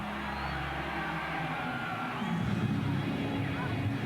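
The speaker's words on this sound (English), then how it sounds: "Crowd coming alive." Crowd at a 1997 rugby league match between the North Queensland Cowboys and Adelaide Rams, a steady roar of stadium noise that swells into louder cheering partway through, with no voices prominent above it.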